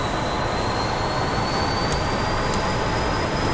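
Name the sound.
F-14 Tomcat jet engine spooling up in the DCS video game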